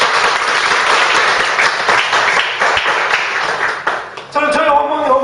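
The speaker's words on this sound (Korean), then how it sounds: "박수 한번 해요." Church congregation claps in a loud, sustained burst of applause, thick and continuous throughout, with a voice rising over the tail end.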